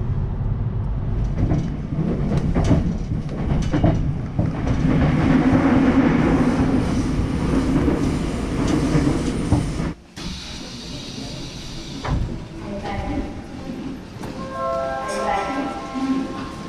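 A subway train ride, heard from inside the car: steady rumbling and hissing with faint rail clatter, dropping abruptly to a quieter hum partway through before soft tonal chimes appear near the end.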